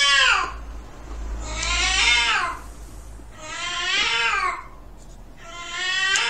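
A cat meows loudly and insistently, four long drawn-out wailing cries spaced about a second apart, close by and alone with no talk.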